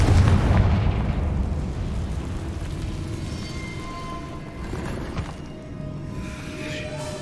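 A Confringo spell blast in Hogwarts Legacy, a loud booming explosion that opens the clip and rolls off into a long fading rumble with a smaller pop later.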